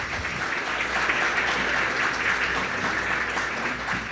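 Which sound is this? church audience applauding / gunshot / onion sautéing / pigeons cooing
church audience applauding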